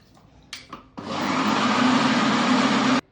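An electric grinder whirs as it blends semolina and water into a paste in a grinder jar, running steadily and loud for about two seconds after a couple of brief clicks.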